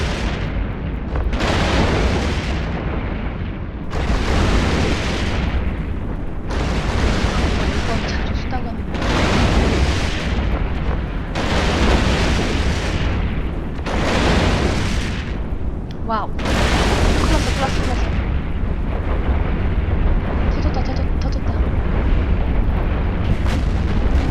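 Spaceship weapons fire in EVE Online during an Arithmetic security mission, a dense run of booming volleys in repeated bursts, loud and close, with short gaps between barrages.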